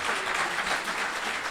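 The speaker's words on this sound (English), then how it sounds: "give yourselves a round of applause" Brief burst of audience applause at a Waterbury veterans headstone restoration celebration, a dense, steady wash of clapping from a crowd.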